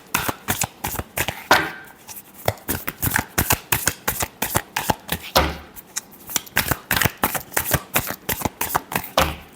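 A deck of tarot cards being shuffled during a reading, with a fast run of crisp, close riffling slaps and flicks repeating steadily for several seconds, loud and without speech.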